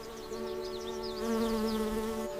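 Bees collecting nectar give a steady, close, continuous buzzing hum with no other sounds around it.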